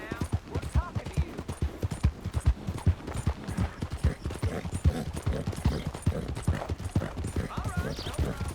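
Horse hooves clip-clop in a steady, close rhythm while riding in Red Dead Redemption 2, continuing beneath voices talking throughout.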